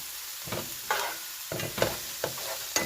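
A spoon stirs squash, onion and pressed garlic in a frying pan, with soft scraping strokes over a steady low sizzle, close and fairly quiet, and no one speaking.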